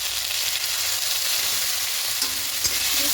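Lentil dal with bitter gourd and a pinch of asafoetida sizzles in a pan as it is stirred and sautéed, a close, steady hiss with a couple of soft utensil clicks near the end and no voices.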